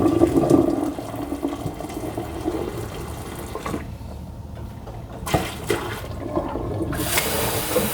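Boiling water is poured from a pot into a clogged kitchen sink drain, a rushing gush of liquid that splashes and gurgles, easing off then surging again near the end, with no talking.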